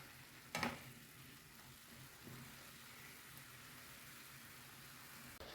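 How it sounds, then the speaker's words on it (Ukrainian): Mushrooms sizzle steadily in a pan, a soft continuous frying hiss with a brief louder crackle near the start and no voices. "Свіжі хороші грибочки. Грибочки смажаться."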